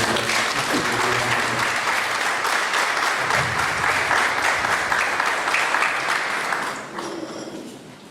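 A full audience at an academic ceremony gives sustained, loud applause that holds steady for several seconds, then thins and fades toward the end.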